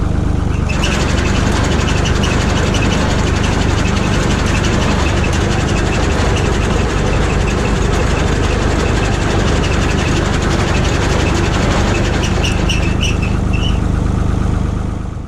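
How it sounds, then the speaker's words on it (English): A New Holland 467 haybine, freshly fitted with new knives and a new belt, runs steadily on a test run, giving a loud, continuous mechanical drone with engine rumble and a faint high squeal near the end. "First test run on the Haybine after getting all new knives on and putting that new belt on."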